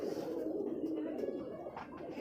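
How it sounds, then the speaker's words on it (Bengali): A Jaklong pigeon from Rajshahi, a white pearl-eyed bird with strong wing feathers, gives low soft cooing up close against a steady noisy background. "আর এই কবুতরটা আমরা চিনি মূলত জাকলং কবুতর হিসাবে চিনি।"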